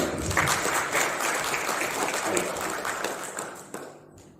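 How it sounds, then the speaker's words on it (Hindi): A crowd of around 150 people at a coaching centre ceremony honouring a wrestling federation president applauds in a dense, steady burst that tapers near the end, with faint voices underneath. "एक बार ताली बजा दें।"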